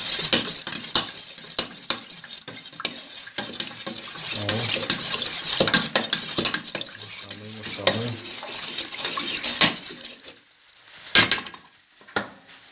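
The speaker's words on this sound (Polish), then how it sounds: "Trzeba to wszystko tutaj dobrze wymieszać." Continuous stirring in a pot, with a utensil scraping and clinking against the sides amid soft sizzling; a few louder knocks near the end.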